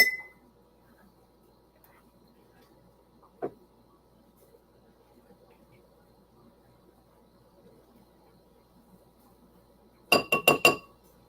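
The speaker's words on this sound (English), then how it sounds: "now we're gonna get the pickling lime in" Tablespoons of pickling lime go into a glass jar: a faint single clink early on, then near the end a quick run of four sharp glassy taps from a spoon striking the jar, close and bright against near silence.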